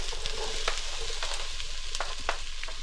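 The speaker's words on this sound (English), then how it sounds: "we're just going to saute some onions," Onions, carrots and celery sizzle in a pot on medium-high heat, a steady close frying hiss broken by a few sharp crackles and stirring clinks, with no talking.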